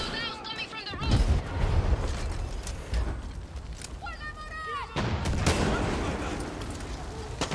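Combat erupts in Far Cry 6 as a rocket is fired at a tank, with heavy booms and blasts, a burst of gunfire and mechanical clatter, all fairly close, with a voice heard in between.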